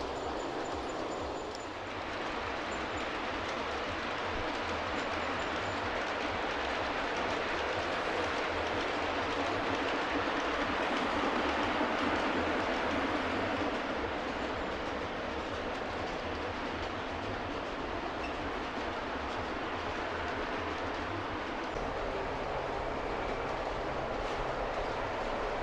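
Model train locomotive running on a layout track at an outdoor model show, a continuous rumbling run with faint rail clatter, steady and moderately close throughout with crowd ambience behind.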